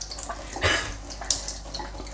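Cold water running from a kitchen tap into a cat's bowl, a steady close splashing stream with a few brighter spurts and drips, no talking.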